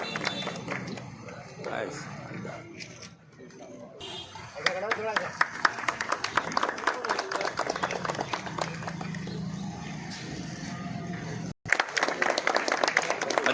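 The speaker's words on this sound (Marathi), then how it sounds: "टाळ्या टाळ्या वाजवा" Audience applause and clapping at a Ganesh mandal gathering for the Eid Milad festival in Savda: a burst of crowd clapping that swells after a pause, with rapid overlapping claps mixed with talk and a brief cut near the end.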